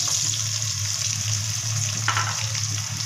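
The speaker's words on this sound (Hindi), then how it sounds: "अब लहसुन अदरक को हमने घी में डाल दिया है। हम इसे गोल्डन ब्राउन कर लेंगे।" Garlic and ginger frying in ghee in a pan, a steady close sizzle that runs unbroken throughout with a brief stirring scrape midway.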